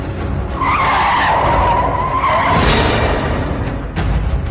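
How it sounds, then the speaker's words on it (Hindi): A car skids to a sudden stop with a long, loud tire squeal that rises and fades over a few seconds under engine noise, followed by a brief scrape; no speech. "गाड़ी रोक दी, क्योंकि रियर व्यू मिरर में अल्बर्ट खुद को देख पा रहा था"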